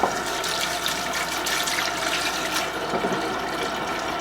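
Pomegranate pulp and seeds dropped into a dye pot of water for dyeing yarn, giving a steady sloshing, gurgling splash that runs loud and close for several seconds with no talking.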